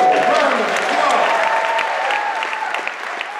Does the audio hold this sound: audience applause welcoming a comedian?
yes